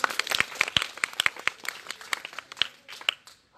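Close applause for students who worked on a student cabinet election: a small group claps in quick, uneven, sharp bursts that thin out toward the end.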